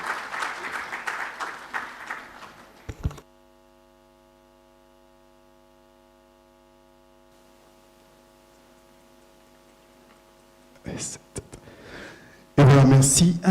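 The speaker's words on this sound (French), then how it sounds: "vous permettre d'applaudir plus chaleureusement nos panélistes et notre modérateur" Conference audience applauding panelists and a moderator, a warm burst of clapping for about three seconds that cuts off abruptly into near silence with a low electrical hum, followed by brief noisy bursts.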